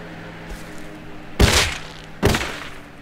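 Two gunshots in Rust, sharp loud reports about a second apart, each with a short decaying tail over a quiet hum.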